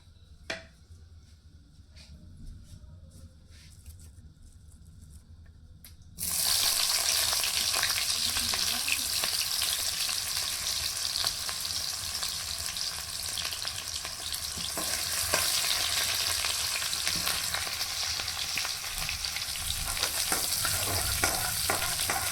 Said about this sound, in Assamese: ইয়াত মই পিঁয়াজ দি দিম